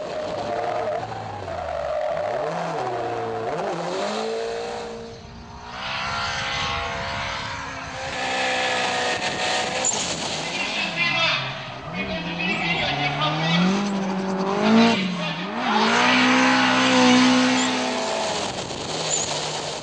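Yellow Nissan Silvia S15 drift car skidding hard at a drift battle, engine wailing and rising in pitch over a long, loud continuous roar with tyre noise, crowd and commentary mixed in.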